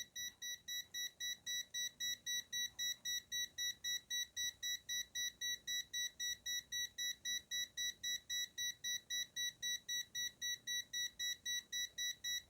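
A multimeter's high-voltage warning, a rapid, high-pitched electronic beep, repeats steadily at an even pulse, loud and alone, with no pause throughout.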